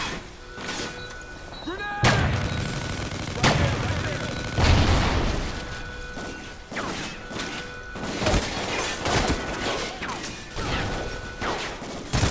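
Grenade blasts and heavy gunfire in Call of Duty: Ghosts, a dense, loud stretch of repeated booming impacts and crashes over constant battle noise.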